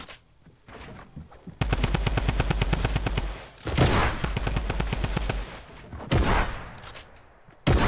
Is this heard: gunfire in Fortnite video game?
yes